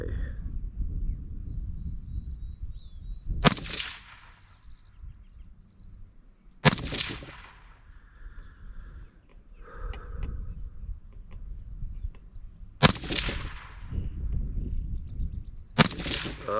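Four sharp rifle shots from a Heckler & Koch HK300 firing CCI ammunition, spaced unevenly a few seconds apart outdoors, each a loud crack with a short decaying echo over steady background rumble.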